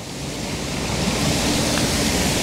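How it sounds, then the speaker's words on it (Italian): Water runs steadily from a marble fountain at the Vittoriano in Piazza Venezia, Rome, making a loud, continuous rushing splash with no voices. "dall'altra parte abbiamo proprio l'altra fontana"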